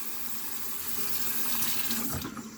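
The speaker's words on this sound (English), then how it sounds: "I'm running the cold water now" Cold water runs steadily from a bathroom sink tap, a continuous close hiss and splash with a slight rise in flow toward the end, no voices.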